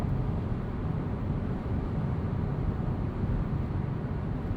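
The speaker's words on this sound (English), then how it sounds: "So there's a decent amount of road noise, a noticeable amount of wind noise" Steady low rumble of tires on pavement mixed with a broad rush of wind, constant and loud throughout, heard from inside a 2020 Hyundai Accent Limited at 75 mph.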